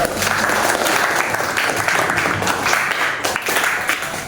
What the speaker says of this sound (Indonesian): Terima tepuk tangan sekali lagi buat teman-teman.